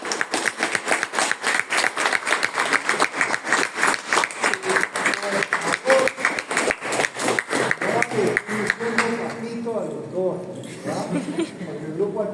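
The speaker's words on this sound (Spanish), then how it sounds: "Yo les pido con mucho cariño un aplauso para mi maestro." A group of students applauds their teacher in a classroom. The steady, dense clapping runs for about nine seconds while people talk over it, then fades into speech alone.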